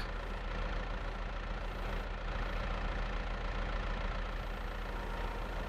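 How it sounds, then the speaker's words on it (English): A front loader tractor in Farming Simulator 22 runs at a steady idle, its continuous low engine drone holding an even level throughout with no speech over it. "This is a cracking front loader tractor."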